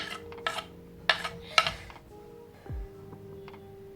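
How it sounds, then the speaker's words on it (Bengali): Spinach being mixed by hand with salt, spices and ginger-garlic paste in a bowl, a few scattered soft clinks and rubbing scrapes over a low steady background hum. "এক চামচ আদা রসুন বাটা দিয়ে সব কিছু ভালো করে মাখিয়ে নেব"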